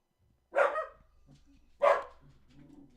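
A dog barks twice, fairly close and loud, with a pause between the two sharp woofs and quiet room sound in the gaps.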